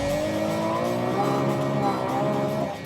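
A Ferrari 296 GTB accelerates hard out of a corner on a track, its engine note rising steadily, loud and sustained throughout.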